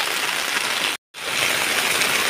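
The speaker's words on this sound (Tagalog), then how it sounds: "Grabe, lakas ng ulan." Heavy rain pours down in a loud, dense, unbroken hiss, dropping out for a split second before resuming at full strength.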